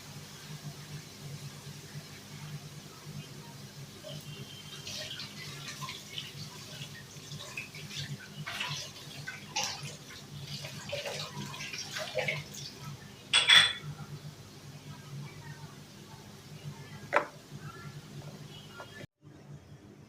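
Dishes being washed under running water: a faint, continuous trickle and splash with scattered light clinks of pots and utensils, one sharper clatter near the middle, all fairly quiet and close.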